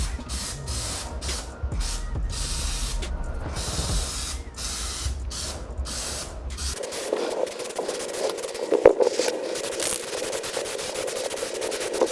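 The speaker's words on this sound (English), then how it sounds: "Got the rattle can right here." Aerosol rattle can spraying Plasti Dip rubber coating onto faded plastic trim, a steady close hiss in long bursts with short pauses between passes, then a more continuous spray later on.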